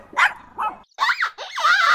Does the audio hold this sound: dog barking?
yes